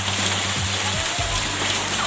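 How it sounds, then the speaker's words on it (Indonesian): Heavy rain and hail pour down in a strong wind near the Tugu monument in Yogyakarta, a loud dense hiss and splatter with a voice faintly mixed in. "Dilaporkan saat ini di seputaran Tugu Yogyakarta terjadi hujan es."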